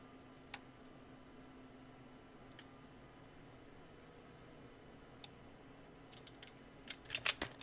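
A few isolated key presses tick on a computer keyboard during illustration software work, faint and widely spaced at first, then a quicker cluster of clicks near the end over a quiet hum.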